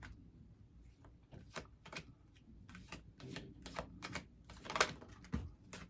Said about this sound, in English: I've shuffled all the decks, but I'll do one more for video.